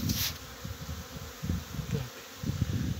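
Honeybees take their first spring cleansing flight from hives at an apiary just after snowmelt, flying low near the ground. The insects make a steady, close buzzing drone with individual bees passing by, and no one speaks.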